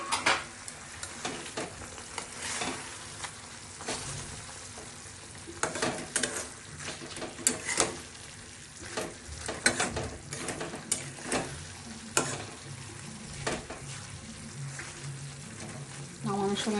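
Pieces of hilsa fish frying in a pan of hot oil with a mustard marinade paste, giving a steady, close sizzle with bursts of crackling and occasional stirring scrapes throughout.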